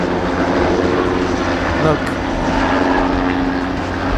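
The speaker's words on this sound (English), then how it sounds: "You can't hear me, you can hear the helicopter." A helicopter flies overhead, a steady broadband rotor and engine roar that stays loud for the whole span, with a brief spoken word over it.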